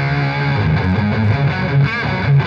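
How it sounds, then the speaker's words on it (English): An electric guitar runs through a distortion pedal voiced like a fuzz, giving a thick, saturated tone as notes and bends are played continuously at close range, with no talking. "because it's the distortion pedal, but it really does, depending on how you play it, resemble and feel more like a fuzz pedal"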